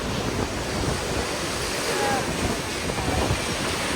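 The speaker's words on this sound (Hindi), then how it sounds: "High tide है, यहाँ तक पूरा पानी आ रहा है" High-tide sea waves wash ashore at Dahab in a continuous broadband rush of surf, with wind buffeting the microphone throughout and no distinct breaks between waves.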